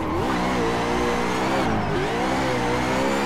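A Nissan 370Z drifting in the Assetto Corsa racing game revs hard and loud, its engine note rising and falling continuously as the throttle is worked, with no pauses.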